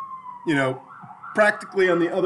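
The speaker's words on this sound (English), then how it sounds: "sorry about the siren" An emergency siren wails steadily in the background as someone talks over it, the tone rising and falling while it stays moderately loud beneath his voice.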